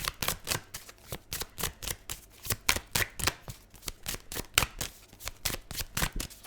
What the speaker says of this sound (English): This deck is so fun to shuffle.